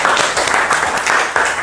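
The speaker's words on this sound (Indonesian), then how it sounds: "kita beri aplaus dulu untuk Mas Zahar ya" An audience applauding in a classroom or training session, with dense, steady clapping heard close and loud throughout the short burst.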